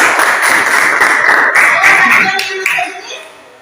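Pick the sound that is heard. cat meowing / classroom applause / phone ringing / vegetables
classroom applause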